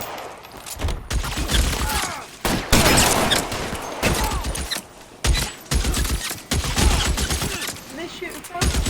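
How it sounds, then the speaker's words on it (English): Dense, continuous gunfire in the video game L.A. Noire, rapid overlapping shots forming a loud fusillade with brief gaps, with voices speaking underneath. "Where are they actually shooting from?"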